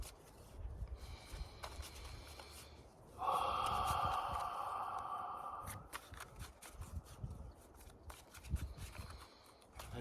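Tarot cards being shuffled by hand in a quiet indoor setting, a soft papery riffling and sliding that swells into a steady burst midway, with faint breaths and small handling noises around it and no talk.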